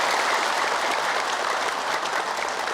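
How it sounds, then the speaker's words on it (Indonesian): A studio audience at an Indonesian religious television program breaks into dense, loud applause, sustained evenly from start to finish with no voices over it. "Boleh tepuk tangan."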